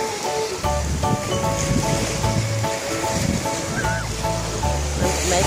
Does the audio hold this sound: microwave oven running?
no